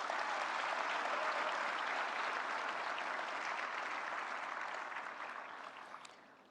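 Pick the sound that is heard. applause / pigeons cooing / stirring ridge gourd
applause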